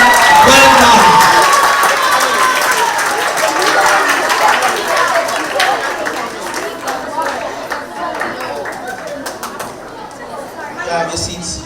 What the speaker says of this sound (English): Can we all stand and give His Worship, the Mayor, Councillor Robert Paris, a hearty round of applause for a job well done.